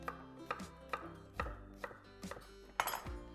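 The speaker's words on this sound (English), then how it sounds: "For the ginger, I've just got a chunk of it right here. Chop it up" A knife chops a chunk of ginger on a cutting board, about nine crisp, close knocks at an uneven, steady pace, no talking.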